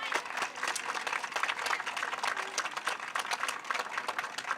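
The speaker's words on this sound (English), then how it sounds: "just look at somebody with the green shirt and just clap at them like you're crazy." Audience clapping at the grand opening of a park, with steady, dense applause from a crowd that stays fairly even throughout without voices standing out.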